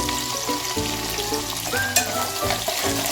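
Fenugreek leaves fry in oil beneath a covering plate for a Nagpur-style methi bhaji, a loud dense sizzle with crackling pops and some clattering stirring throughout.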